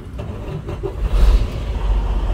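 A Dodge Hellcat engine cranks and fires up close by, a short rough rumble swelling into a loud idle, with no talking.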